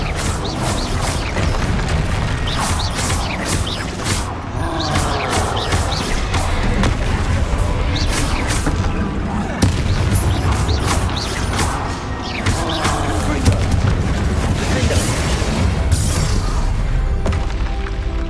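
Confringo spell blasts in the Hogwarts Legacy video game, a dense, continuous stream of booming explosions, crashes and shattering debris under a constant loud game soundscape for the whole stretch.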